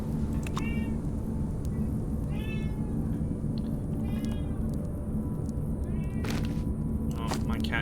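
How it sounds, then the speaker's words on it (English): A cat meows repeatedly indoors, several short rising calls spread across the clip, heard over a steady loud rumbling background with occasional clicks. "Oh, my cat is here."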